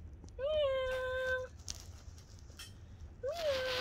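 A kitten found in a car park gives two clear, high, drawn-out meows, the first long and the second starting near the end, with faint background noise between them.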